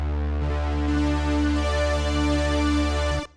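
Sustained synth pad from the Korg KRONOS workstation's Poly-6 engine emulating the vintage analog Poly-6: a rich, steady held chord with a thick low foundation, swelling slightly, then cut off abruptly near the end.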